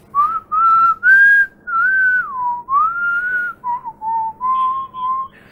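Loud, close whistling in a run of sustained, wavering notes that rise and dip in pitch, with short breaks between them.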